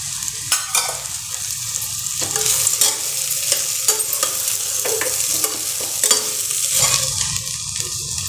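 Peanuts fry in a pan with sautéed ingredients. Close, loud stirring scrapes and clatters recur irregularly over a continuous sizzle.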